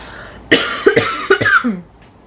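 Someone coughs several times in a short, harsh burst, close up and loud, with a raspy catch at the end.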